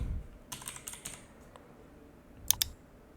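Quick bursts of keystrokes on a computer keyboard as a short word is typed into a search field, a cluster of clicky taps followed by a pause and two sharper clacks near the end, close and clear with no talking.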